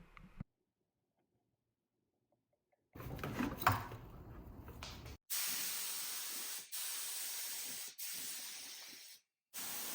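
A spray gun applies a tinted top coat to a wooden mid-century modern dresser in bursts of steady hissing, several passes separated by brief pauses after a quiet start, close and fairly loud.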